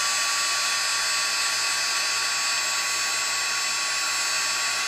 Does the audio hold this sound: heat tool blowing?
yes